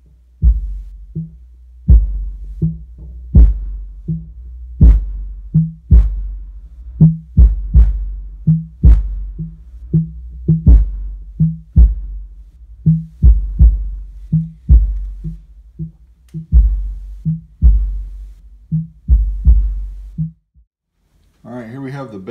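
Test subwoofer powered by a Soundstream AR8000.1 amplifier thumps with deep, punchy bass pulses in a steady rhythmic pattern, loud and close, before a short pause and a brief burst of voice at the end.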